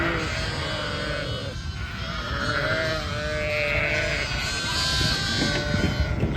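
Newborn lambs and ewes bleat outdoors, several overlapping calls rising and falling in a steady chorus close by, with a light breezy rumble underneath and no talking.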